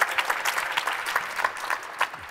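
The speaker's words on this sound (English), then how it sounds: "Give it a hand for Aapo." An audience claps for a speaker at a talk event, a brief burst of dense applause at moderate distance.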